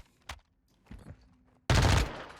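Modern Warfare 2 rifle fitted with a 40-round magazine fires in game: a few brief isolated reports, then a loud sustained burst of automatic fire close up at the end.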